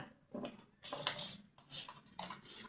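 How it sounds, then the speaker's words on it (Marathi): A whisk or spoon scrapes and clinks through rava cake batter in a bowl, coming in short, close bursts of brisk metallic stirring with brief pauses between them and no voices. "याला दोन मिनटासाठी असं चांगलं फेटून घेऊया"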